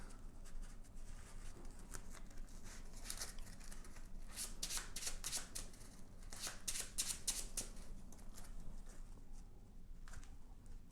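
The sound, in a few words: shuffling cards back into the deck of a card game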